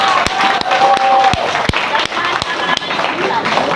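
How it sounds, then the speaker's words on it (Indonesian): A crowd at a mosque Maulid sermon breaks into applause, with sharp, irregular claps from near listeners standing out over the broader crowd noise. "tepuk tangan buat orang-orang"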